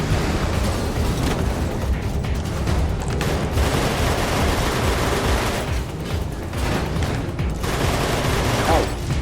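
Gunfire in the PS3 car-combat video game Full Auto 2: Battlelines, a loud, continuous barrage of rapid shots and blasts mixed with engine roar.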